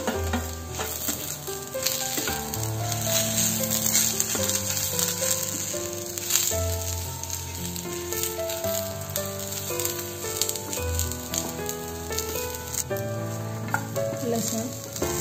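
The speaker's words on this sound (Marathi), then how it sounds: "आता यामध्ये टोमॅटो घालून घेऊया। टोमॅटो पण छान फ्राय करून घेऊ।" Tomatoes fry in a pan with browned coconut for an eel fish curry, giving a steady, close sizzle under background music, with occasional stirring rattles.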